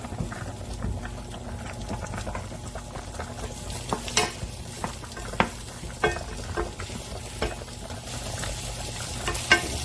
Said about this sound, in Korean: 팬에 올리브 오일을 두르시고요. 마늘과 양파를 먼저 좀 볶아줄 거예요.